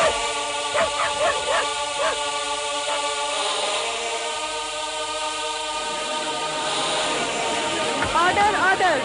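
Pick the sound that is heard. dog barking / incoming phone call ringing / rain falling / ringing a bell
dog barking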